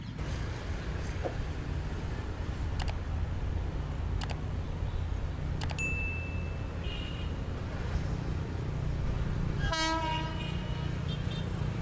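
An Indian Railways locomotive rumbles past with a steady, continuous low roar from its wagons. A loud horn blast sounds near the end, with a tonal whine partway through and sharp clicks on the rails.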